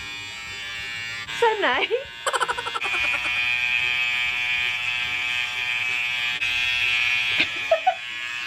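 An electric nose hair trimmer buzzes in a steady, close drone for several seconds, with people talking briefly before and after the buzzing.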